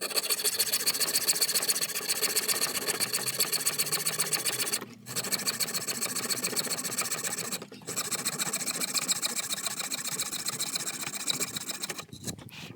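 Power tool fitted with a metal blade grinding through pottery shards, a loud, continuous rasping whine held steady with two brief pauses in cutting and a short stop near the end.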